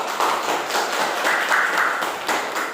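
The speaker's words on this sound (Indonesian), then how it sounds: "Tepuk tangan dulu saya" Students in a university teacher-training classroom give a round of clapping hands, a steady dense patter of many hands at moderate distance lasting under three seconds, with no voices over it.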